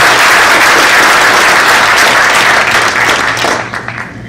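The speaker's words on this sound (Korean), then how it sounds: "감사의 박수를 좀 부탁드리겠습니다" A hall crowd at a church general assembly applauds to thank the kitchen staff, loud dense clapping that holds steady for about three seconds, then thins and fades.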